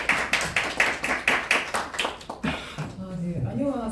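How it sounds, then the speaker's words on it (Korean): Rhythmic clapping from a small group at a press conference rings out in even beats, then fades as a person begins speaking. "여러분 뜨거운 박수로 환영해 주시기 바랍니다"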